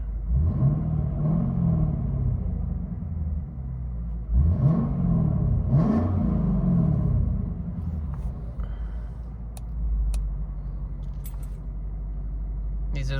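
Deep rumbling V8 idle from a 2022-2025 Lexus IS 500 5.0L with exhaust valves closed, rising in a few short revs that climb and fall back, close and steady, with a voice speaking briefly.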